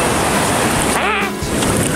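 Pacific ocean waves wash onto the beach at Malibu, California in a loud, steady broadband roar of surf and rushing water close by, with a brief dip and wind buffeting on the mic.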